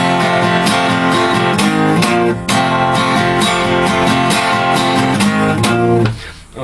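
Acoustic guitar strummed steadily through two repeated bars, bright full chords with a driving rhythm, close and loud, ending in a brief ringing pause.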